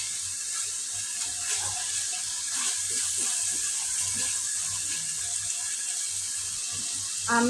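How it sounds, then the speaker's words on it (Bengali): Water poured into spice paste frying in a pan, a continuous hissing splash and bubbling that runs steadily at moderate level, close by, with no talk. "আর একটু পানি দিয়ে মশলাটা কষিয়ে নেব"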